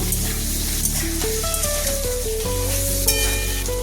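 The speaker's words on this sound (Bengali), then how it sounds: "এখন আমি আদা আর লঙ্কা বাটাটা দিয়ে দিব, কাঁচা লঙ্কা বাটাটা নেড়ে চেড়ে নিব" Ginger and green chili paste stirred in a hot frying pan, a steady sizzling hiss running continuously beneath a louder melodic music track with no distinct spoon strokes.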